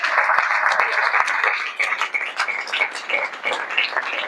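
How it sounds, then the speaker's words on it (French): A conference audience at a hotel in Kinshasa claps, distinct overlapping hand claps with a few sharp close ones early on, fairly loud, with some voices mixed in. "Si on peut applaudir."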